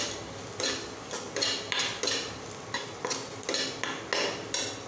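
A spoon stirs spinach in a pan for lahsuni palak, scraping and knocking in a regular rhythm of close, moderately loud strokes with no talking.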